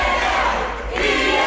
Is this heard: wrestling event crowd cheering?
yes